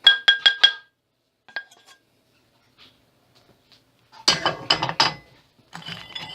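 Jerky-seasoned nuts are stirred in a bowl, giving quick bursts of bright clinks and rattling taps separated by near silence.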